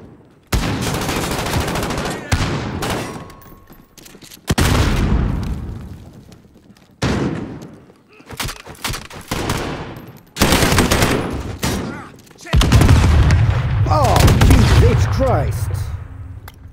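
Rapid bursts of gunfire in a video game shootout, loud and close, arriving in several volleys separated by brief pauses, with heavy booming shots and a rumbling low-end tail toward the end.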